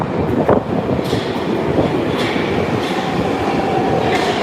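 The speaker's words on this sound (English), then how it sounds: "When the train is coming, there is the wind." A St Petersburg metro train on the Green Line pulling into Proletarskaya station, a loud continuous rumble with rhythmic wheel clatter and faint squeals, close and filling the platform, no voices.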